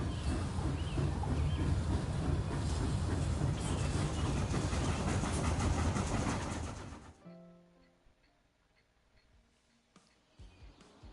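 A train in the Hokko Life video game rumbles and clatters loudly for about seven seconds, then cuts to quieter ambience with light chirps and clicks.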